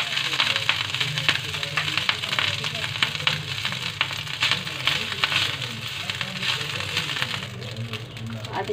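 Rice for street-style chole chawal is stir-fried in a pan, a steady close sizzle and crackle with frequent light scraping of a spoon, continuing without pause.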